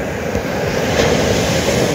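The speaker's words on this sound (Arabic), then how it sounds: "طبعا الآن جاءت موجة ماء" A sea wave washes over grains of sand in a continuous broadband rush, loud and close, holding steady for the whole stretch with no voices.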